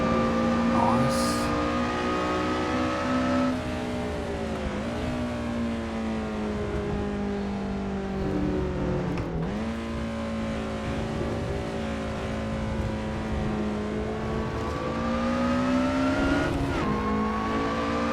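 Lotus Elise SC RSR race car accelerating around Mount Panorama, Bathurst, its engine droning steadily close up with rising and falling pitch through gear changes and a brief dip, continuous for the whole stretch.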